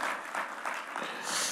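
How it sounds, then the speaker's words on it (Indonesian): Church congregation applauding during a worship service, a brief stretch of steady, moderately loud clapping with no speech over it. "Kasih tepuk tangan buat Tuhan yang luar biasa dong"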